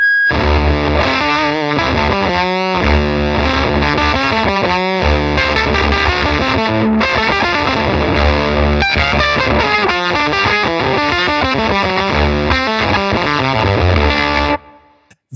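An electric guitar runs through a Giudis C375 fuzz pedal at standard voltage, giving a thick, saturated, buzzy fuzz tone as loud chords and riffs are played continuously before cutting out abruptly at the end, with no voices.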